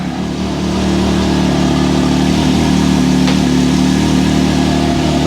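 A 2023 Can-Am Maverick X3 engine running steadily after startup, a loud, close, even drone with a faint metallic rattle in the mix and no talk.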